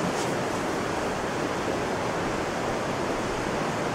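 Spring water at Los Berros flowing in a steady, dense rush, constant and close with no voices over it.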